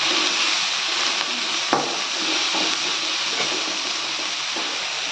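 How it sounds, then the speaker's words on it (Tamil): Chopped tomatoes and curry leaves sauté in a pan with a steady, moderately loud hiss and sizzle, with an occasional soft clink of a utensil. There is no speech. "இப்போ இந்த தக்காளியை நல்லா வதக்கி எடுத்துக்கலாம்."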